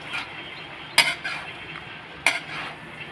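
A metal lid is set on a cooking pot of cabbage, giving two distinct clinks a little over a second apart over faint kitchen background noise.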